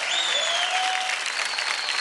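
An audience on a TV dance show bursts into dense, sustained clapping and cheering, loud and continuous throughout, with a faint whistle-like tone riding over the crowd.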